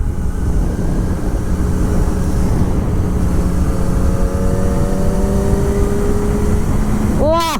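A Kawasaki ZX-25R motorcycle on an empty village road in Saitama, Japan, throttles up, its high-pitched engine note rising steadily through the gears under rushing wind, with a rider's voice and a brief rattle at the end.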